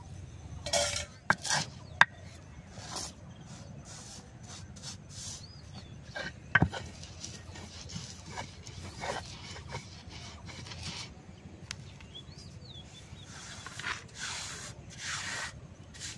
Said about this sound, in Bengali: আম পাতাটাও ওখানে আমি বাইটা নেবো